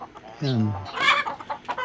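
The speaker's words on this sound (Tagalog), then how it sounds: "Nagbibigay siya ng pagkain doon sa manok." A chicken gives a single drawn-out, falling call while being fed on a farm among coconut trees, followed by a man's brief speech over soft background clucks.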